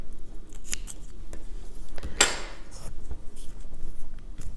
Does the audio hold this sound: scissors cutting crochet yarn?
yes